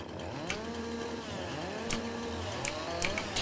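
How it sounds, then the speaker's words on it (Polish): A chainsaw in a farming video game runs steadily while cutting tree branches, its engine whine rising and falling in repeated revving arcs, with sharp clicks of wood cutting scattered on top; no voices. "wezmę swoją piłę, będę obrzynał te gałęzie"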